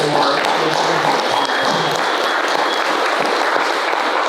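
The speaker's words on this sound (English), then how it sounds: "let's give a round of applause for" Loud, dense applause from an audience at a talk, continuous clapping filling the whole stretch at an even level, close and full, with no talk on top.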